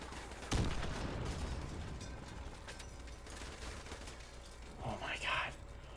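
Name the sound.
gunfire from video game Modern Warfare Remastered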